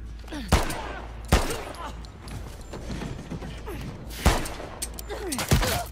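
Gunshots from The Last of Us Part II, a video game, heard as four sharp, loud reports spaced unevenly over a rumbling background with scattered mechanical clatter and faint voices.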